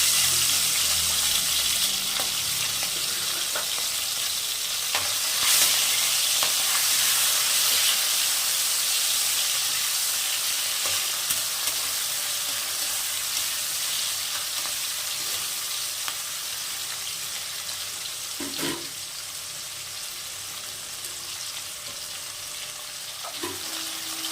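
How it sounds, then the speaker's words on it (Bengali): Around 100 grams of shrimp fry in reused hot oil in a pan, giving a continuous hissing sizzle that slowly fades, with occasional stirring clinks and scrapes against the pan. "এবার আমি একই তেলে 100 গ্রাম মতো চিংড়ি মাছ ভেজে নেব।"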